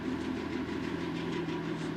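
A diesel engine hauling a van rolls into a railway goods yard in 1961 Ireland, a steady droning engine hum with rail rumble, close and continuous for the whole moment.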